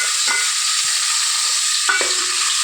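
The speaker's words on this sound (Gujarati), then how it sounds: "હિંગ અને મરચાં પણ નાખી દીધા છે અને ટમેટા પણ નાખી" Tomatoes with asafoetida and chillies frying in a pan give a steady, loud, close sizzle throughout, broken by a couple of brief stirring scrapes.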